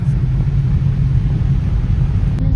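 A car engine rumbles in slow traffic on a ghat road, a steady, loud, low drone throughout with no voices.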